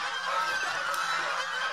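Geese honk loudly and continuously at close range, a dense overlapping chorus of nasal calls from a group of farm geese.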